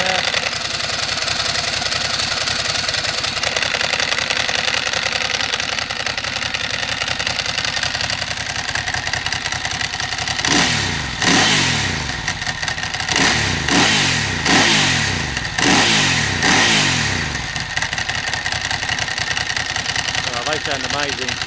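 A motorcycle engine idles steadily with the clutch pulled in, a continuous rumble, then a run of sharp throttle blips and revs in the second half, close to the microphone.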